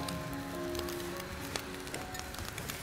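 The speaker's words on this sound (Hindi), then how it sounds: "थोड़ा सा इनको ऑयल में सौते कर लें" Onion rings sauté in oil over high heat, a close, steady crackling sizzle with small pops running throughout, without talking.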